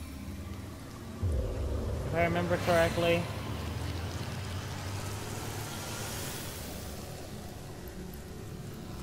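Steady rain hiss falls in the video game Divinity Original Sin, a broad continuous wash across the clip, with a voice talking briefly over it near the start.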